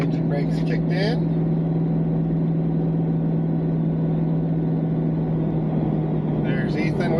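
Engine braking on a new Chevy truck towing a heavy load down a 7% grade, a steady low drone held throughout, close and constant, with people talking briefly at the start and end.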